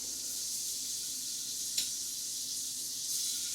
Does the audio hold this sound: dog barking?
no